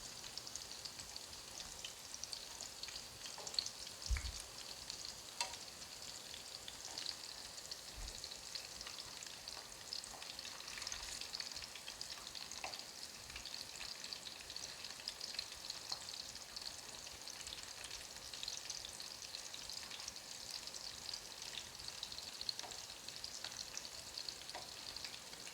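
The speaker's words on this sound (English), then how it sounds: "Now they're fried all around, let's remove them from the oil." Homemade meatballs fry in oil on a stovetop with a soft, continuous sizzle and occasional stirring knocks, faint and steady throughout without any voices.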